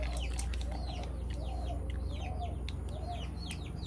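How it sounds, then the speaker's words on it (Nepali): Hens cluck softly and repeatedly in the background in a farm field over a steady low hum, with scattered small bird chirps and no one talking. "यो कुखुराहरू त कस्तो हैरान पार्ने होला।"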